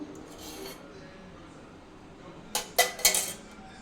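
A pan set on the stove for tempering chutney with oil, mostly quiet, then a short cluster of three or four sharp metallic clinks and clanks near the end.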